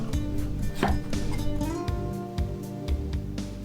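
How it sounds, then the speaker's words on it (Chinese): A knife cuts a small block of pork belly into thin slices on a board, giving a quick series of close, crisp chopping taps with short pauses between them. "同样切成薄片"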